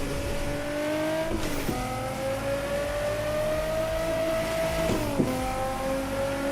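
A simulated racing car engine in a racing simulator revs steadily through the gears. Its droning, harmonic whine climbs slowly, with two quick dips at the shifts, and plays alone without talk.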